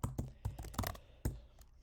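Close, crisp computer keyboard typing in quick irregular bursts of clicks and clacks, with short pauses between keystrokes.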